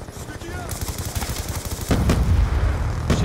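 Rapid gunfire in Black Ops 2 multiplayer, a loud stream of close shots with heavier bursts partway through, under excited shouting.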